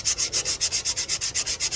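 Hand sanding on the trunk jamb bodywork of a 1991 Honda CRX with a K20Z3 engine, a close, steady back-and-forth rasp in an even rhythm of about seven strokes per second, with no voices.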